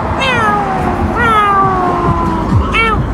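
A human voice imitates a cat, giving three drawn-out, wavering meows that rise and fall, close and fairly loud over steady background noise.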